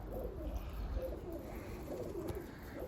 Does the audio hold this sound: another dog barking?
no